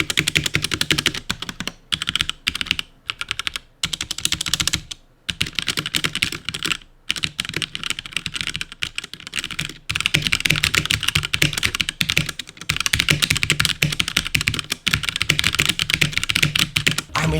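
Rapid typing on a HyperX Alloy Origins Core TKL mechanical keyboard with a floating-key design and PBT keycaps, a dense, steady stream of close, crisp clicks with a few brief pauses, no voices.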